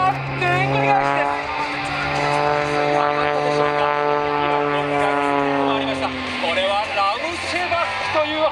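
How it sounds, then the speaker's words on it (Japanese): An aerobatic propeller airplane tumbles through stunts at the 2010 Tone Sky Festival air show, its engine drone rising and falling in pitch, moderately distant, under an announcer's continuous commentary. "飛行機がでんぐり返して、"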